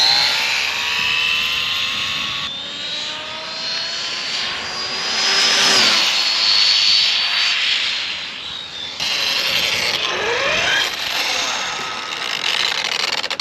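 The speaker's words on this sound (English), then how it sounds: "Teddy, we're gonna do a little 4S run here" An Arrma Typhon RC car on a 4S battery making a speed run, its motor whining and rising and falling in pitch as it passes near and away, loud throughout with no talk.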